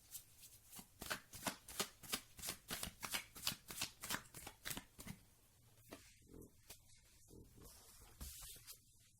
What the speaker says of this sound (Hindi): Cards are just falling out.